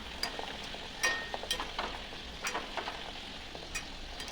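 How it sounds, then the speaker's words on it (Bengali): Nanpuri deep-frying in hot oil, a steady crackling sizzle with a few sharper spits and bursts scattered through, close by and moderately quiet, with no voices. "এখন বেশি ভাজবো না চারটে ভেজে নেব"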